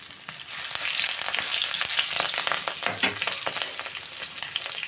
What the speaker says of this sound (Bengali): পাঁচফোড়নটা গরম হয়ে গেছে, এর ভেতরেই আমি দিয়ে দিচ্ছি কটা কাঁচা লঙ্কা